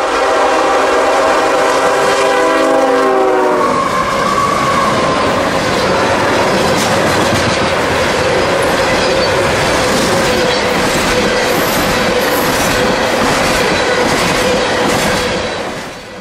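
A coal train passes close by, its lead engine sounding a horn with stacked tones at first, then a loud steady rumble and clatter of wagons on the rails that holds for the whole stretch with no talk.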